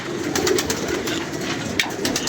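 A hungry pigeon, days without food, coos softly and repeatedly up close, with a few sharp clicks and rustles mixed in.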